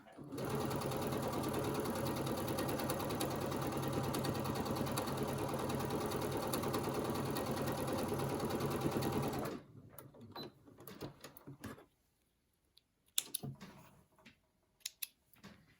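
Home sewing machine stitching quilt pieces together with gorgeous patterned fabric, a steady fast whirring run for about nine seconds, then stopping, followed by faint handling clicks and rustles.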